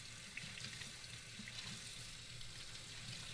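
Tap water runs steadily into a sink while a paint roller is rinsed, a faint, even rushing with small splashes and no voices.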